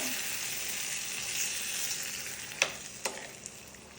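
Fried mustard seeds, chillies and curry leaves are stirred into a bitter gourd sesame curry, a steady close sizzle with a few sharp spoon scrapes toward the end.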